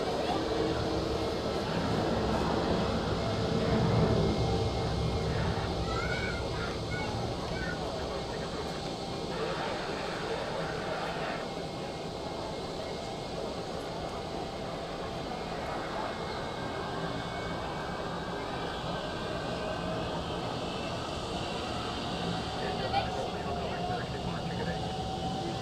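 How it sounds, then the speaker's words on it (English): Etihad airliner taking off at Zurich Airport, a steady broadband jet roar holding across the whole stretch at a distance, with people talking over it from time to time. "Oh, I think we have Etihad departing."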